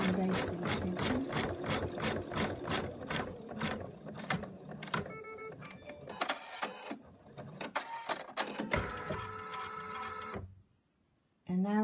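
An embroidery machine on an OPW project stitches basting lines to mark the center, giving a close, rapid mechanical chatter with rhythmic needle strokes, a few pauses and shifts in pace, then a sudden stop near the end.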